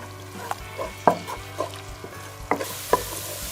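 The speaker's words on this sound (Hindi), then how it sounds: "लहसुन अदरक के पेस्ट को आप अच्छे से खुशबू आने तक फ्राई कर लें।" Garlic ginger paste sizzles in a hot pan while a utensil scrapes and stirs, producing intermittent clinks over a steady frying hiss and low hum.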